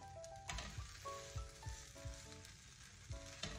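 A leftover rice pancake (cheela) fries in a pan over a low flame, a steady close sizzle broken by a few soft scrapes and knocks, with no talking.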